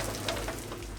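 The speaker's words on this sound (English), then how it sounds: "Rain is picking up." Heavy rain falls at a pond construction site with an excavator, a dense close hiss of drops over a low steady engine drone, with no voices.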